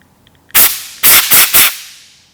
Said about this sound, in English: I'm gonna shoot the back side of this with air